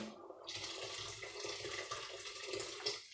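Running water splashes steadily into a vessel for a few seconds, close up, then cuts off abruptly.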